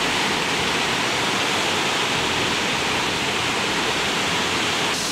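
Rushing water pours steadily at El Nicho waterfall near Cienfuegos, Cuba, a loud, close, continuous roar with no voices.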